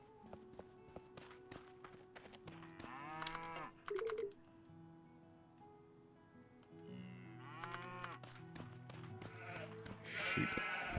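Sheep bleating in the video game Potion Permit, repeated wavering calls over a steady game music bed with footstep-like ticks, the bleats rising clearly at a few points.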